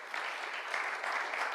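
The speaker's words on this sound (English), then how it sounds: "Please, a round of applause for his presentation." Audience in a conference hall applauds after a talk on building a browser groovebox, looper and sampler, a brief even burst of clapping with no voices over it.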